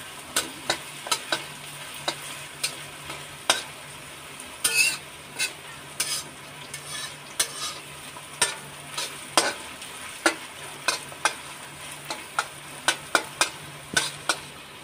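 Onion and capsicum frying in hot oil, a continuous sizzle broken by frequent sharp clicks and scrapes of a spatula against the pan, close and alone with no voices.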